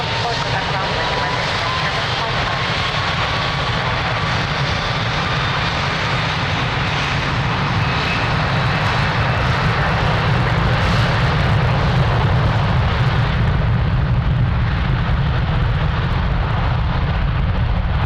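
An aircraft taking off from runway 02 at Lisbon Airport, a loud, continuous engine roar with a broad rumble that holds steady and swells slightly throughout.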